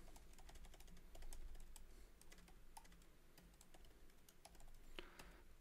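Fingers typing a name on a computer keyboard, a steady run of light, quick clicks with short pauses between bursts, close and fairly quiet with no talking.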